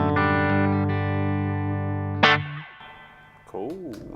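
Clean electric guitar on the bridge pickup rings out in a long sustained chord, then a sharp pick attack and a few brief picked notes follow, close and clear through an amp with slight reverb.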